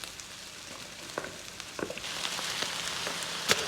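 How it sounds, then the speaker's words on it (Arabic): Meat and onions fry on a wood stove with a steady hiss and sizzle, scattered crackles and pops rising over a soft background. "بعد ما استوى عنا اللحمه نص استوى، بدنا ننزل علينا البصل"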